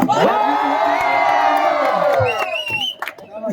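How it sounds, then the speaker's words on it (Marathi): A crowd at a community games event lets out a loud, sustained cheer with whooping and shouting voices, including children, which fades into scattered calls after a couple of seconds. "अध्यक्षांसाठी जोरदार टाळ्या"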